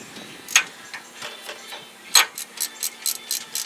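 A ratchet working on bolts of a 2007 or later Ford Expedition's rear brakes, sharp close clicking in short bursts that quicken into a rapid run of ticks.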